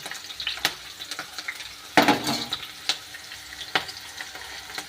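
Ginger and green chillies sizzle and crackle in hot oil in a pan, with a steady frying hiss and a few sharp bursts and stirring clatters, no talking.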